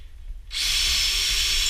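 A power drill bores through an old kitchen cabinet to fit a door handle, starting after a quiet moment and then whirring loudly and steadily, with no speech.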